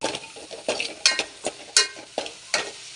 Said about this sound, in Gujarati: એક ચમચી મરચું નાખીશું અને આપણે મસાલાને થોડી શેકાવા દઈશું